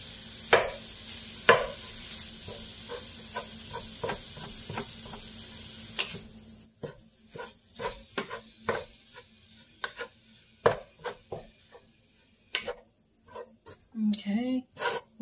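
Ground beef fries in a pan for a keto Hamburger Helper, with a steady low sizzle under repeated close scraping and tapping from stirring, some louder knocks, and a voice talking over it.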